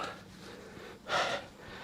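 A person panting heavily after climbing a limestone hill trail, giving a breathy gasp that swells briefly mid-clip over steady faint breathing, close to the microphone.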